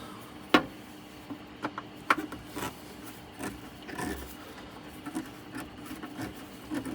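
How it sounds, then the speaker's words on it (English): Screws are removed from the underside of a 1976 Aiwa AD6500 cassette deck, producing quiet, close, scattered clicks and scraping rasps from the screwdriver against metal. "So let's get these screws out."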